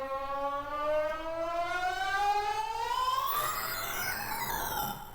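A bit-crushed synth tone with automated downsampling, a loud sweeping tone rising steadily over one measure before breaking into gritty, aliased digital harmonics near the end, with no voices.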